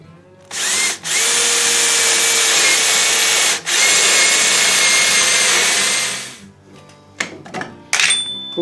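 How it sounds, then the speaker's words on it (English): A power drill with a 7/16-inch bit whines loudly and continuously for several seconds while drilling into metal, with two brief pauses, then stops, followed by a few clattering knocks. "Now I have to drill this square to the piece"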